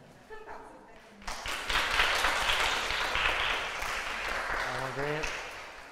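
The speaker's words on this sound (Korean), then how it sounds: "큰 박수 부탁드립니다." An audience applauds ink painter Park Jin-woo at an artist talk for a space-themed exhibition, clapping swelling in after a quiet start and holding steady, with a voice speaking over it near the end.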